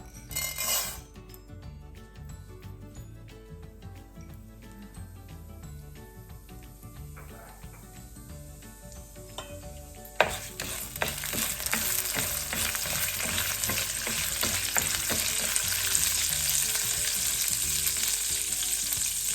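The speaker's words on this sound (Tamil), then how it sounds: "இதுக்குள்ளே நாங்கள் இப்போ எடுத்து வச்சுருக்கிற இந்த உளுத்தம்பருப்பை போட்டுக்கொள்ளுவோம்" Urad dal is frying in oil in a pan, producing a constant crackling sizzle that suddenly swells into a loud, bright hiss partway through and stays strong to the end, with occasional utensil scrapes.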